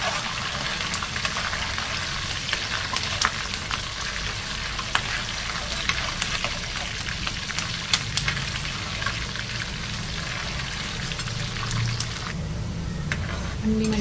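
Tomato pickle ingredients fry in hot peanut oil with a steady, close sizzle and crackle throughout, occasional stirring clinks on top, and no talk.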